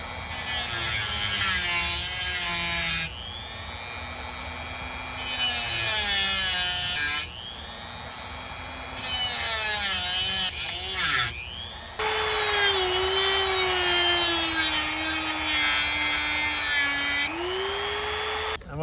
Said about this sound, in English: you can Dremel out a slot drive to try to use a flathead screwdriver.